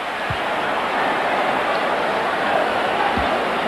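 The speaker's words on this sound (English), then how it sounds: "Crowd reacting to the rare miss tonight by Worthy in his first free throw appearance" A basketball arena crowd at a 1991 NBA Finals game reacts to a missed free throw: a steady, broad murmur and roar of many voices that fills the space evenly, with a couple of faint thuds underneath.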